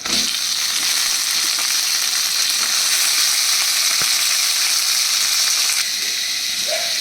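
Drained chicken pieces fry in a hot pan, producing a loud, steady, close sizzle and hiss that holds evenly and eases slightly near the end, with no talking.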